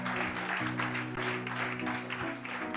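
A church congregation applauding in praise during a French-language worship service, with dense steady clapping throughout alongside sustained tonal music or singing underneath.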